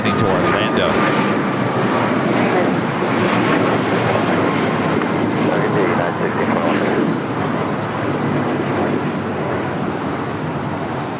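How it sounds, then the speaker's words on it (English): A JetBlue Airways airliner arrives at LAX from Salt Lake City with a loud, steady broadband jet rumble that slowly eases toward the end, under a voice talking throughout. "JetBlue Airways Flight 1731 coming in from Salt Lake City"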